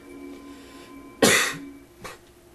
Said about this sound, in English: Sorry, I have a bit of a cough.